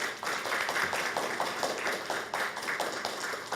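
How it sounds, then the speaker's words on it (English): Audience applauding at a case-based teaching conference, a steady patter of many hands clapping together, fairly close and even in loudness, with no talk over it. "Let us applaud and thanks Professor Shay."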